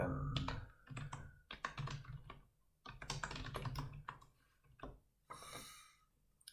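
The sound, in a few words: typing on a computer keyboard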